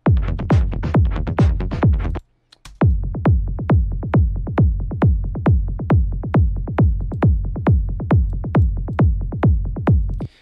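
A deep, booming electronic kick drum thumps in a steady rapid four-on-the-floor pattern, with a brief pause after two seconds before the beat resumes.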